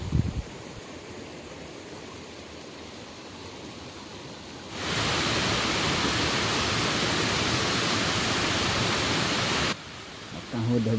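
Ghubadi waterfall in Jawhar pours water over rock in a dense, steady roar, loud and close, with a quieter rushing stretch before and after the strongest burst of falling water.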